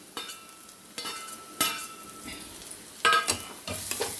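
Cumin, onion and crushed garlic frying in hot refined oil, an uneven sizzle broken by sharp scraping bursts from stirring, fairly close and moderately quiet, with no voices.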